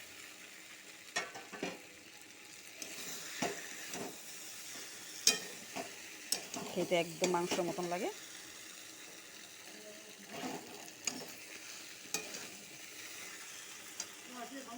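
Soya chaap sizzling in a pan with spices and coconut paste, stirred with repeated scraping strokes and a busier burst midway, while a person speaks over it.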